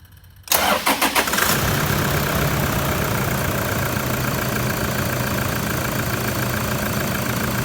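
A Toyota Prado's 1KD diesel engine cranks briefly, catches with a few uneven chugs, then settles into a steady, loud rattling idle close by.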